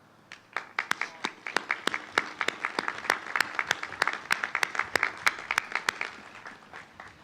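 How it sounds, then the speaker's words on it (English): An audience applauds at the opening ceremony of the National Veterans Memorial and Museum, a sustained round of loud clapping that swells and then thins out. "we'll give you a round of applause."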